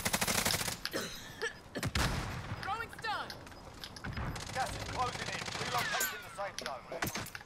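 Gunfire in a multiplayer video game, bursts of rapid automatic shots mixed with other loud effects, heard under people talking.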